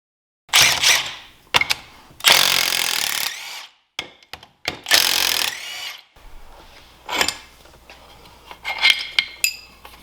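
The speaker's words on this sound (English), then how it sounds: "for these cylinder jug bolts, we're going to use a 13 mil with an extension because the backs are a little bit deeper" Bolts being removed from the cylinder jug of a Seadoo 787 two-stroke engine with a 13 mm socket on an extension: close, loud bursts of ratcheting and metallic turning separated by short pauses, then lighter clinks and rattles.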